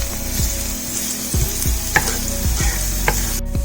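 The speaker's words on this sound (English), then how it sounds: "Add chopped garlic. Add sliced ginger. Saute it." Chopped garlic and sliced ginger sautéing in a pan for veg jalfrezi, a steady close sizzle of oil with several clinks of a spoon stirring against the pan.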